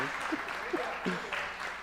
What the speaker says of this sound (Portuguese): Mais uma salva de palmas para a Emily, para a Júlia.